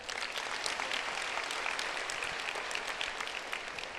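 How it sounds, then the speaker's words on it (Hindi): Audience applause at a Brahma Kumaris dedication ceremony at Shantivan, Mount Abu, a dense, steady wash of many hands clapping throughout, fairly distant and even in loudness with no clear voices. "इन सबको जोर से ताली बजाए।"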